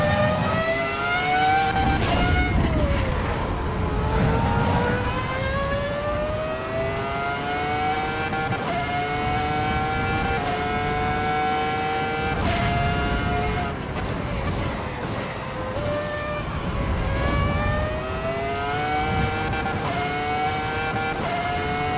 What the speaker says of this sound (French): Oh, le bruit de ce moteur!